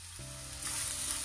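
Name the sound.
sauteing green onions in oil in a pan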